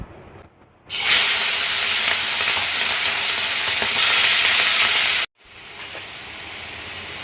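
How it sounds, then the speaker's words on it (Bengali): Prawns rubbed with salt and turmeric fry in hot oil, a loud steady sizzle that bursts in after a short quiet, holds for about four seconds, then cuts off, leaving faint kitchen noise and a small clink. "চিংড়ি মাছগুলো ভাজা হয়ে গেছে"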